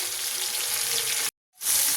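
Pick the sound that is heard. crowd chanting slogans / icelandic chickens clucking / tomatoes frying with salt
tomatoes frying with salt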